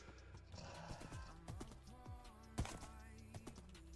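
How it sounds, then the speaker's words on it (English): Horses in Minecraft Java Edition make game sounds: a steady run of clip-clop hoof steps with occasional whinnies and a sharp thunk, close and moderately loud, with no talking over them. "many horses."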